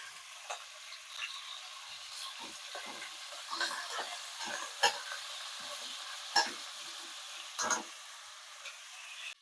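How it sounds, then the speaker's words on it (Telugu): Chicken pieces frying in a pan for a quick chicken pulao, a steady oil sizzle broken by several sharp crackles and stirring scrapes, close and alone with no talk. "ఇప్పుడు ఇందులోకి చికెన్ వేసేస్తున్నాం"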